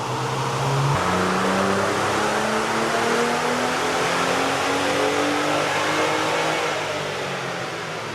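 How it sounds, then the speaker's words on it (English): A Toyota Tacoma third-generation truck engine revs steadily upward on a dyno in one long sustained second-gear pull with no load, its pitch climbing with a constant roaring drone and no talking. "he's gonna do a second gear pull with no load on the dyno"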